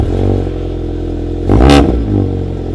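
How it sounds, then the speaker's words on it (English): A Volkswagen Golf engine runs on a cold start with a steady, loud, close idle drone, lifted by one short rev midway before it settles back. "let's jump in the golf, listen for a cold start"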